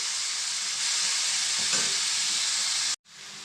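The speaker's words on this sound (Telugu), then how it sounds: "ఇక్కడికైతే మనం కాకరకాయ ముక్కల్ని చక్కగా ఫ్రై చేసుకోవాలండి, మంచి గోల్డ్ కలర్లో వచ్చేదాకా" Bitter gourd pieces frying in a pan give a loud, dense, steady sizzling hiss close up, which cuts off abruptly near the end and then resumes.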